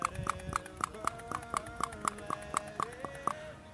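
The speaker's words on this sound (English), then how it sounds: "I'm just going to start pumping furiously again." A hand pump is worked fast and hard, giving a steady run of rhythmic squeaking strokes, roughly three per second, each with a soft thump, fairly close and alone.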